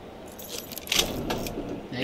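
Keys jangle as they are handed over in Assassin's Creed Unity, a light metallic rattle lasting about two seconds with faint ambient game noise beneath it.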